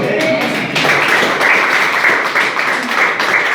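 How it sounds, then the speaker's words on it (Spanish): Church congregation applauding, a dense steady wash of clapping that fills the whole stretch at a loud, close level, with some voices mixed in. "¿Cuánto le dan un aplauso al Señor?"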